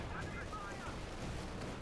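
Jaeger infantry and an Ostwind flak tank firing in Company of Heroes 2: a steady, crackling stream of gunfire, fairly faint and distant, running under a commentator's talking.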